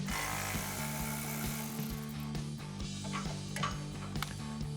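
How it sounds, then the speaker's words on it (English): A ratchet with a 10mm socket turns out brake line bracket bolts on a Jeep Gladiator, giving a rapid, steady clicking at close range with a few sharper knocks. "So we'll grab a 10mm socket to pop these out."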